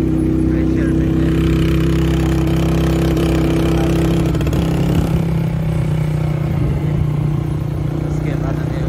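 A motorcycle engine labours hard while climbing uphill on a mountain road in Iran, with a loud, steady, close drone that runs throughout, and voices are heard over it.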